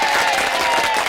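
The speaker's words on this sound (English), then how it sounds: "give us a round of applause too." Dense, steady applause from a crowd on a radio podcast, a continuous wash of clapping with no pauses.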